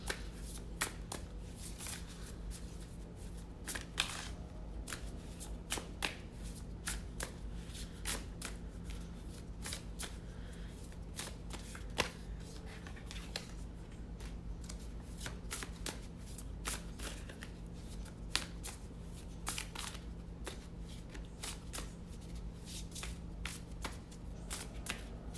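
Tarot cards are shuffled continuously for a new moon Libra reading, a steady run of soft crisp riffles and flicks close by over a low constant hum, with no talk.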